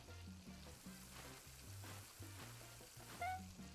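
Steak sizzles on a grill in the cooking game PlateUp, a continuous crackling fry heard alone at moderate level, with short repeating low game tones pulsing underneath throughout.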